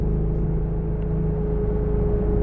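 A 2014 Shelby GT500 cruises along, its engine a steady, loud low drone with a smooth whir heard from inside the cabin, holding an even pitch throughout with no voices.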